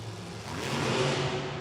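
A monster truck engine roars and revs steadily at a Monster Jam event in an arena, a continuous loud mid-pitched drone that swells slightly toward the end, with no talk.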